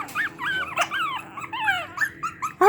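Several Shih Tzu puppies bark and yip back and forth in quick, high-pitched bursts, with a few whimpers and growls mixed in, close by and fairly loud, with no talking.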